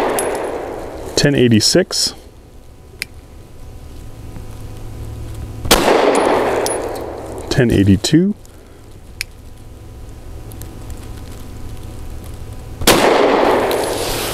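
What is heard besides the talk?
gunshots from Tisas PX9 Gen 3 Duty 9mm pistol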